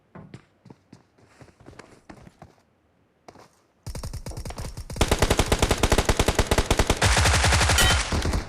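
Gunfire in a head-on fight in the mobile battle royale game BGMI: a few scattered shots, then sustained loud automatic bursts firing in rapid succession.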